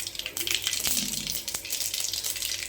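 Mustard seeds frying in hot oil for a Telugu egg curry, a dense steady sizzle with scattered pops and crackles close by, no talking.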